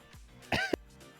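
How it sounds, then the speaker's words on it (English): One person coughs hard while laughing, giving a couple of sharp, close throat-clearing hacks in quick succession. "I started laughing and I started coughing hard."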